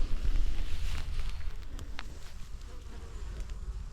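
Honeybees buzz steadily at the entrance of a hive during a colony inspection, a close, dense hum with some wind rumble on the microphone.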